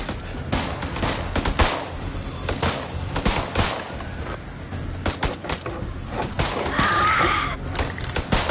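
Rapid bursts of automatic gunfire in a shooting video game, dense and loud, crackling almost continuously with brief gaps.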